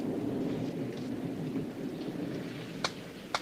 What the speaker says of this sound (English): lot of rain